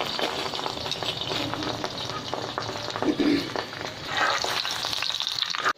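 Spinach paratha fries on a hot tawa griddle with a steady crackling sizzle and occasional scraping or stirring sounds, close up throughout.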